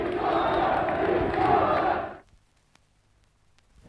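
A crowd of people claps loudly outdoors in Lisbon near the Quartel do Carmo on 25 April, a dense, steady roar of hands and voices that cuts off abruptly after about two seconds, leaving near silence with faint clicks.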